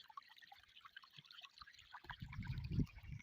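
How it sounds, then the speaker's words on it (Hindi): Water trickles and burbles along a mountain irrigation channel, soft and steady with small splashy drips, swelling into a fuller rushing gush toward the end. "पानी चलने की आवाज़ें देखें।"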